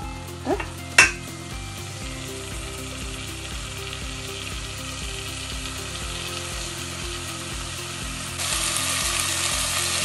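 Onions and tomatoes sizzle in a pan for a restaurant-style mushroom biryani, a steady close frying hiss with rhythmic scraping stirs, a couple of sharp clinks early on and the sizzle swelling near the end.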